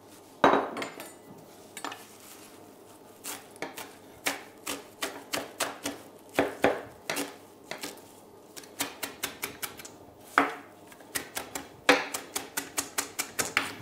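A knife chops fresh coriander, mint and parsley finely on a cutting board, giving sharp, close taps in irregular quick bursts and steadier runs across the whole stretch, with no voices.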